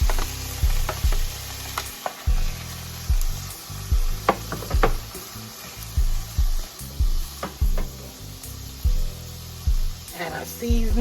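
Corn and mixed vegetables hitting a hot pan over medium-high heat for fried corn, giving a steady sizzle with stirring scrapes and clatter, while a voice talks intermittently over the cooking.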